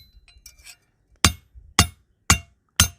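Four loud, ringing hammer blows on steel set over a wood block, flattening it for an improvised arrowhead, come close and evenly spaced after a few softer taps and knocks.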